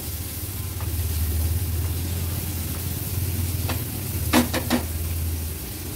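Finely chopped tomato is stirred into frying onion masala in a pot, with a continuous sizzle under a low hum and a short burst of clinking spoon strikes near the end.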